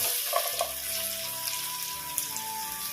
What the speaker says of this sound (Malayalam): ചൂടുവെള്ളത്തിൽ നിന്ന് മാറ്റി വെച്ചിരിക്കുന്ന കോളിഫ്ലവർ ഉണ്ടല്ലോ, അത് ഇതിലേക്ക് ചേർത്ത് കൊടുക്കാം.